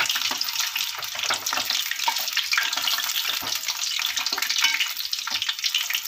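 Urad dal medu vada deep-frying in hot oil, giving a steady, close, continuous sizzle with fine crackling throughout and no voices.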